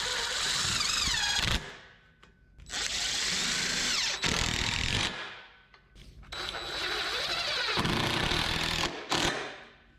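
A power drill driving black-painted wood screws into boards for a firewood carrier frame, three or four long whirring bursts, each ending sharply, separated by short quiet pauses, close up.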